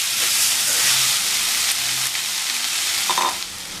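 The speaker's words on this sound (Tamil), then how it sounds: "சாதத்தை சேர்த்து நல்லா சூடு பண்ணிக்கலாம்." Leftover cooked rice is stirred and reheated in a hot pan with sautéed onions for tamarind rice, making a steady loud sizzle and hiss with a few faint scraping stirs near the end and no talking.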